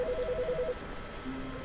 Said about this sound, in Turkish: Bu telefon çalıyor, okey.